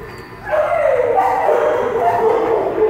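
Onyx, an 11-month-old young dog in a shelter kennel, gives an excited, sustained whining bark up close, loud and continuous with a slight yelping edge, with no talking over it.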